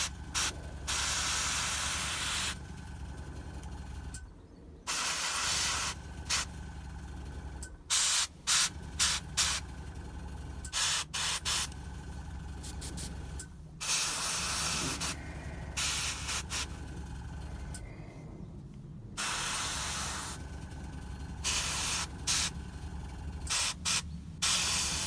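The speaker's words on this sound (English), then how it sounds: "the airbrush is actually quite a nice light touch way of doing it" An airbrush sprays paint onto the sword of a fragile miniature figure, a soft steady hiss in long close bursts broken by short pauses, with no talk.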